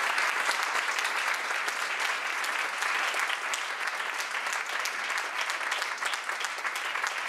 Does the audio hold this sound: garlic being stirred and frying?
no